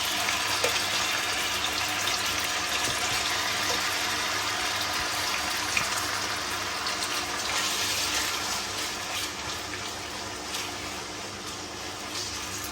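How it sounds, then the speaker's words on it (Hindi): Marinated chicken frying in pre-heated oil over slow-to-medium heat, heard as a dense, continuous hiss that stays even and fairly loud throughout, with no voices. "और अब मैं करूँगी इसको अच्छे से फ्राई"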